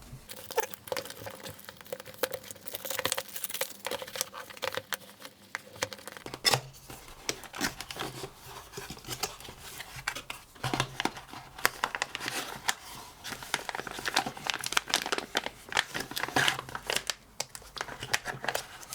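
Packaging for a Tilta TA-QRTH5 rotatable camera top handle cut and pulled open at close range: continuous crinkling plastic, scraping and snipping, with irregular rustles and small taps and no talk.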